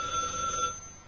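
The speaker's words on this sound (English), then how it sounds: "my hotel phone's ringing" A hotel room telephone rings with a steady electronic tone at moderate loudness that holds briefly and then tapers off, with no voices.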